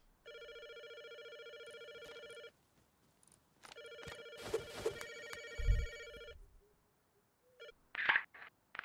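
Mobile phone ringing inside the video game Rust, a steady electronic ringtone in two long bursts separated by a short pause, with brief game noises and thumps around the second burst.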